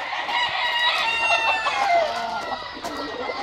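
Fighting roosters just taken down from their coops at a breeding yard crow and cluck together, loud and near, with overlapping strained calls filling the air.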